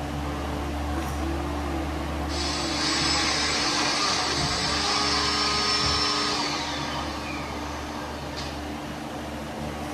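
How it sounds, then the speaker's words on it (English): A vacuum cleaner runs steadily with a loud, whining motor hum that rises in pitch for a few seconds, then settles back into a constant drone. "I wonder what the vacuum's gonna do."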